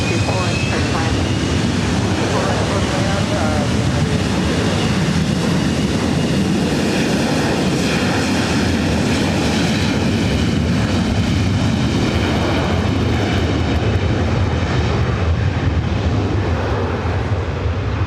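A jet climbs out from runway 24 right at LAX, a loud, steady broadband engine roar that holds for the whole stretch with slowly shifting tones. Faint voices, likely radio chatter, can be heard under it.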